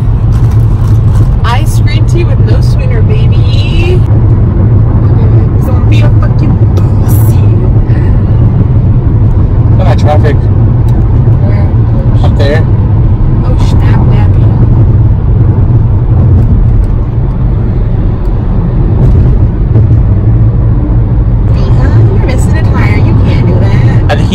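A Toyota car drives on the road, its loud, steady engine and road rumble continuous throughout, with people talking inside over it.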